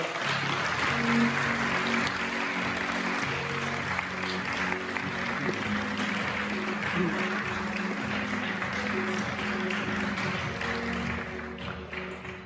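An audience at a Hyundai Motor Group technical briefing on its next-generation hybrid system claps steadily at moderate volume to welcome a presenter, a continuous wash of clapping with a faint tonal backing underneath.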